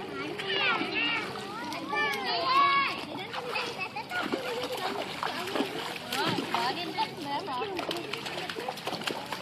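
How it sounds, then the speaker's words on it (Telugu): Splashing water from a child playing, with irregular splatters and bursts throughout, mixed with children's voices and an adult speaking over the activity. "ఏ సుస్మిత, అలాగే వేయకూడదు వాటరు."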